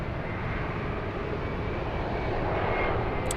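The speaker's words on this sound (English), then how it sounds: "Alaska Airlines 1355 flying to Portland." An Alaska Airlines airliner departing Los Angeles International Airport for Portland gives a steady, loud, continuous engine roar that swells slightly toward the end, with no voices.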